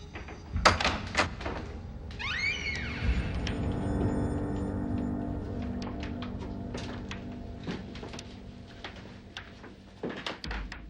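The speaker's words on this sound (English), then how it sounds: "Open the door." A door opens with a few sharp knocks and thuds, then a long creaking, scraping swing that settles into a low hum, ending with more thumps, fairly close and loud.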